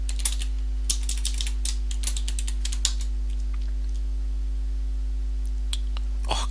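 Quick clicking keystrokes on a computer keyboard as a password is typed, a scattered run of close, light taps over a steady low electrical hum, ending in a few isolated presses.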